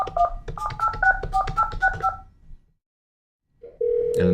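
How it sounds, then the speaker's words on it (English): A Polycom VVX 500 desk phone keys in a number: a quick run of about a dozen crisp dialing tones, then a pause of silence before a steady ringback-like tone starts. "Just dial the area code and the number, and"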